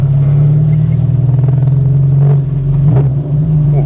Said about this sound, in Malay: So dia bunyi V8 sekarang. So kereta ni adalah Saga V8.